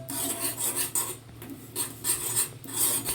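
Sesame seeds stirred with a little ghee in a pan, giving a repeated dry scraping rasp in steady strokes, close and fairly loud with no talking.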